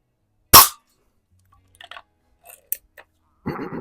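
A single sharp, close pop rings out as a 125-year-old antique Eisenwerke Gem No. 13 air gun fires a pellet at cans, followed by faint clicks and handling rustles.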